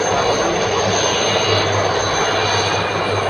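A steady, loud helicopter engine drones overhead without a break at a Durand Cup football event in Kokrajhar, a constant roar with a low hum underneath and no voices.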